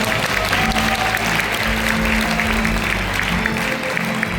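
An audience at a peace-themed music talk concert in a hall claps steadily, a dense continuous round of applause with a few voices mixed in.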